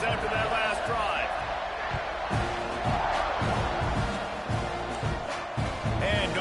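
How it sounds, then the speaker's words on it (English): A college football stadium crowd during a kickoff in a UNC versus Texas A&M game gives a steady, loud roar of cheering with rhythmic thumps and claps, while a commentator talks over it. "this crowd is feeling themselves after that last drive"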